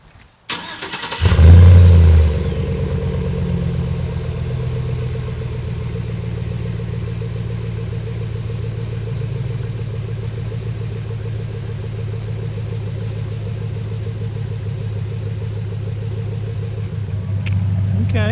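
A pickup truck fitted with Magnaflow 4x9 oval mufflers cranks and catches, then settles into a steady, low, mellow idle rumble that holds evenly to the end, close and with no talk.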